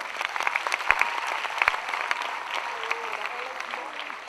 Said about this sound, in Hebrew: מגיע להם מחיאות כפיים